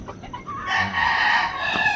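A raptor gamefowl rooster crows once, a clear, drawn-out call heard fairly close and alone, with some faint clucking just before it.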